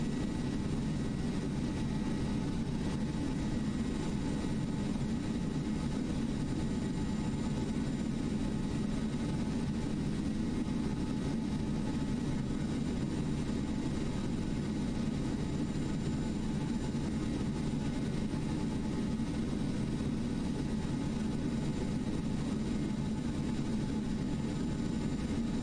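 A jet airliner's engines drone at climb thrust in a flight simulator, a steady, low, unbroken roar that holds level for the whole stretch with no voices.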